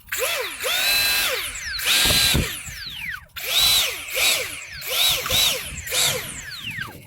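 Electric motor of an FX 9631 J-35A 4-channel 2.4GHz RC jet airplane revving in repeated rising and falling whining bursts, loud and close, with short pauses between throttle pulses.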